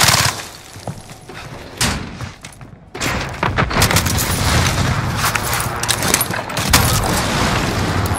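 Precision airstrike explosions in a video game hit as a rapid barrage of sharp blasts and booms, with a brief lull before a heavier, sustained volley of loud, close detonations rumbles on.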